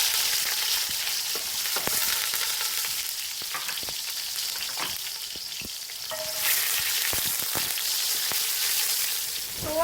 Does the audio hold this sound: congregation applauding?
no